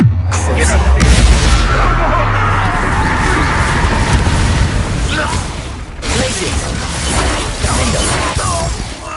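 Bombarda and Confringo explosion spells in Hogwarts Legacy, loud crashing, shattering bursts with a heavy rumble at the start and another sharp blast around 6 s amid busy combat noise.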